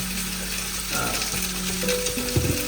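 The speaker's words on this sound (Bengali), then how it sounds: "এই ইলিশ মাছ ভাজি হচ্ছে" Hilsa fish frying in a pan of oil, a steady close hiss of sizzling with faint clinks, heard alongside other cooking in a busy home kitchen during a birthday meal.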